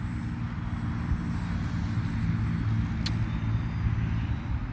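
An RC F4U-4 Corsair model airplane, an 1100mm foam warbird, takes off with a steady, loud electric motor and propeller drone under continuous rumbling wind and ground noise, close to the microphone throughout.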